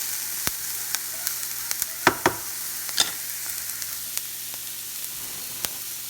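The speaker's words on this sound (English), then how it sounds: "usually I put this on high until it's nice and sauteed" Vegetables sauté in a pan over high heat for a vegan breakfast, giving a steady close sizzle broken by a few sharp crackles and scraping stir sounds, with no voices.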